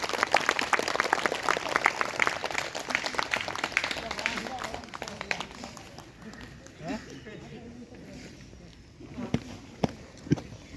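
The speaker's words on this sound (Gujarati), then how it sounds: "જોરદાર તાળીઓથી વગાડો" A group at a weight-loss yoga and Zumba dance class claps loudly and steadily for several seconds, then the applause thins out into scattered footsteps and faint movement.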